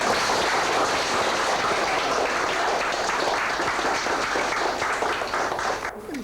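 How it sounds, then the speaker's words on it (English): Loud, sustained applause from a crowd, a steady dense patter of many hands clapping that eases off slightly near the end. "And what round of applause, please."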